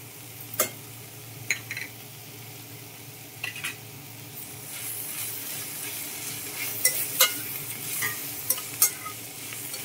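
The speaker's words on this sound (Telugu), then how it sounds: "మన పొట్లకాయ ఫ్రై అయితే వేగిపోయింది. ఇప్పుడు కారం వేసేసుకుందాం." Snake gourd frying in a pan with chili powder, stirred with a utensil that scrapes and taps the pan in scattered sharp clicks over a steady close sizzle, without any voices.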